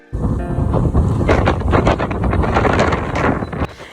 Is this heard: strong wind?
yes